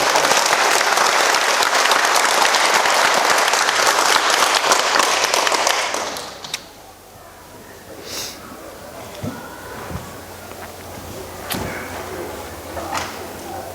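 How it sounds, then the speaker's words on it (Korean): Loud audience applause at a Korean morning-letter foundation lecture, steady dense clapping for about six seconds that stops abruptly, followed by a quiet room with scattered faint knocks and small noises. "물 마실 때마다 박수를 쳐주기로."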